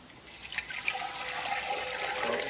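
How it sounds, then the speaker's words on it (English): Water and sugar are poured into an Italian ice machine, a steady splashing, trickling flow that swells gradually and stays close and fairly quiet, with no talking. "So we'll pour the water in the machine"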